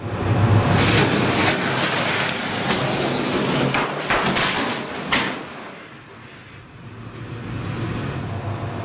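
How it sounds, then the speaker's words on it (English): A lithium-ion battery stored without a case catches fire and burns, giving a loud, continuous roaring hiss with sharp crackles and bursts that eases slightly toward the end. "Here's a lithium-ion battery catching fire without being stored in a case."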